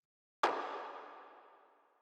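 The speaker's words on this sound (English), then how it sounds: "and then the next thing that we have here is this little clap," A single sharp electronic clap from a deep techno track snaps in, then fades through a reverberant tail lasting over a second and a half, heard on its own.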